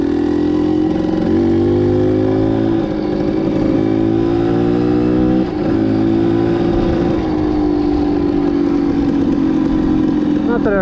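A 1989 Kawasaki KDX200 two-stroke dirt bike is being ridden, its engine buzzing steadily and loud and close, with pitch rising and falling through gear changes. A rider talks over the engine.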